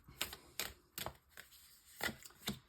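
Tarot cards laid down one after another on a table, giving about six short, crisp taps and slaps spaced irregularly, close and fairly quiet, with no talk.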